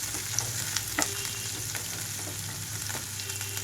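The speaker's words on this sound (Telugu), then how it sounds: "ఇందులోనే పచ్చిమిరపకాయలు అలాగే ఉల్లిపాయలు వేసి వేయించుకుంటున్నాను." Green chillies and onions sizzling in hot oil in a pan, a steady close crackle with occasional light stirring taps, and no voices.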